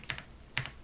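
Computer keyboard keys clack close by, two quick pairs of crisp presses about half a second apart, with no talking.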